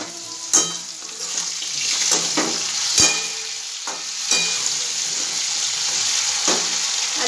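Koi fish simmering in a bottle gourd curry gets stirred in a pan, with a steady sizzle broken by several sharp scraping and clinking strokes of the utensil.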